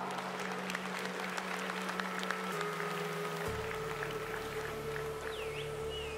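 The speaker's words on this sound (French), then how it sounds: "on l'applaudit très fort" Audience applause at a Bazadaise cattle show podium, a steady sustained clapping from a crowd that carries on evenly throughout, with a low background hum underneath.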